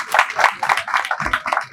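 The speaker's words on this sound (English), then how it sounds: "they deserve a big round of applause" Audience applause for a cancer control team, a short run of distinct, fairly close claps in a brief burst.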